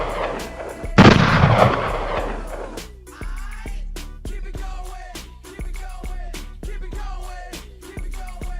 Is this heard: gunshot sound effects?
yes